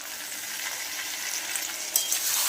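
Chicken cooks in a covered pan over a low flame, its oil seeping out with small splashes of water added. A steady, close hiss of frying runs throughout, with a brief metallic clink near the end.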